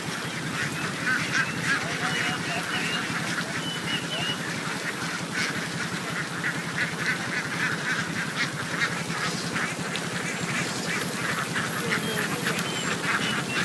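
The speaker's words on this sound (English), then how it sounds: "It's actually not uncommon to see a river of ducks flow through the streets of Vietnam." A large flock of ducks moving through a street in Vietnam gives a dense, continuous din of overlapping quacks and honks that stays busy and fairly near from start to finish.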